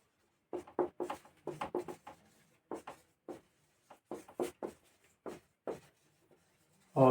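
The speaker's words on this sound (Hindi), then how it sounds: "तीन में लिखते हैं Ram is the best boy" Chalk or marker writing on a board in a classroom, heard as quiet, irregular scratchy strokes in short bursts with brief pauses between them, close by and without talking.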